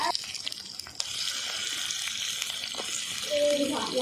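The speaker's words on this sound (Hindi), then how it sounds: "अब कुकरी ला डाले के बाद संगवारी हो, एला थोड़ा देर अच्छा से फ्राई होने देबो।" Desi chicken frying in oil in a pot outdoors in a jungle, giving a soft, continuous sizzle and bubbling at moderate distance for about four seconds, with a faint voice near the end.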